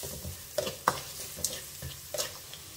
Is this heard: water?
no